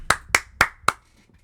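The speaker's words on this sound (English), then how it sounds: "Clap it up." Four sharp hand claps in an even rhythm, close and fairly loud, followed by quiet.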